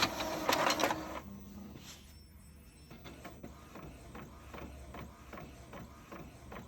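A home inkjet-style printer runs a business-card print job, opening with a burst of mechanical shuffling and feeding clatter, then settling into a steady whirring hum with repeated soft clicks and pulses of the print head as the sheet slowly advances.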